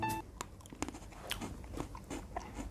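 Someone bites into a sweet, crunchy Japanese snack shaped like a hockey stick, giving several sharp close crunches and chewing sounds, quiet and without talk.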